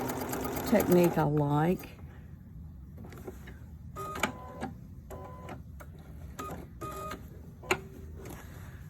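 A sewing machine stitches binding onto a quilt in several short, rapid bursts separated by pauses, after a person speaks briefly at the start.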